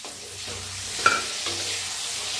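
Stuffed brinjal masala roasts in a pan, a steady close sizzle under repeated stirring scrapes, with one sharp clank of the spoon against the pan midway.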